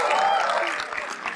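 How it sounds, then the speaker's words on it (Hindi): A brief burst of crowd applause at a comedy roast show as the first act is introduced, dense clapping that fades slightly over a second or so. "इनके लिए तालियां प्लीज।"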